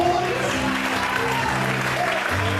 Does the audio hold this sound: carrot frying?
no